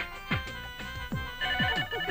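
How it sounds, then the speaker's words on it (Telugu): A telephone rings again and again with a repeating electronic pattern in a scene from a Telugu feature film. The ring is fairly faint but steady and sounds on its own, with no voices. "టెలిఫోన్ ఎంతసేపటి నుంచి రింగ్ అవుతుంది, తీయండిరా."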